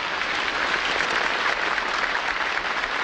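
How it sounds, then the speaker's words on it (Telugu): A crowd of people claps steadily and continuously, a dense, even wash of applause close by with no pauses and no talking. "చప్పట్లు కొట్టు, ఆపకుండా కొట్టు"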